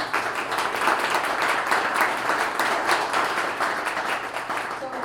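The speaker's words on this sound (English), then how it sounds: "Let's have a round of applause." A meetup panel audience claps together in steady, dense applause that stays at an even level for several seconds, with a faint voice underneath.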